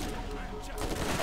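Rapid gunfire in the shooter video game Borderlands, a dense continuous burst of shots that fills the whole moment at moderate loudness, with a voice speaking faintly underneath.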